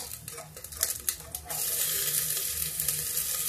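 Onion dropped into hot oil in a home kitchen, for a peas and tomato curry, sets off a loud, steady sizzle after a few clattering taps, close up and continuing to the end with no talking.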